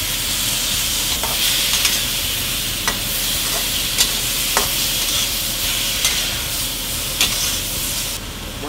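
Garlic and meat for lomo saltado stir-fried in a hot pan, giving a loud continuous sizzle and hiss with regular scraping stirs of a utensil every second or so.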